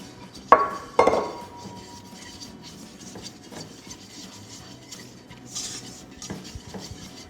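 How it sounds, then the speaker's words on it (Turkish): Flour roasting in melted butter in a pan, with two sharp metallic clanks of a utensil against the pan, then quieter scraping and stirring. "Erimiş tereyağımızın üzerine Unumuzu da ekliyoruz. Biraz un kokusu gidene kadar kavuracağız."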